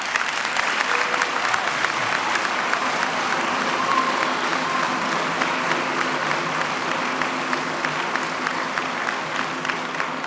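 Audience in a school auditorium applauding at an evening political debate, a dense, steady wash of clapping that holds at full strength for about ten seconds with no break.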